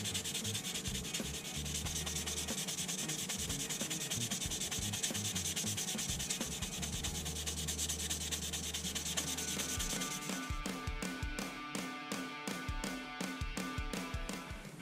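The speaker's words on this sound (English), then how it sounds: "I could move straight on to sanding the body down with 600 grit sandpaper." A Revell 2006 Shelby Mustang GT-H plastic model car body is rubbed with 600 grit sandpaper in quick, close, scratchy strokes. The rhythm grows sharper and more separated toward the end. The sound is quiet, and no voice is heard.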